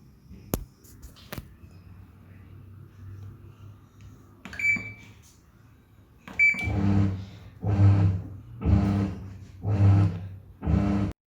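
A washing machine loaded with clothes gives a few sharp electronic beeps, then settles into a rhythmic run of deep humming surges that rise and fall steadily, close by in a quiet home.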